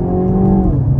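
A 2024 Mini Cooper S with a dual clutch transmission accelerates hard, its engine note loud and close, rising briefly in pitch and then dropping as a quick gear change comes in.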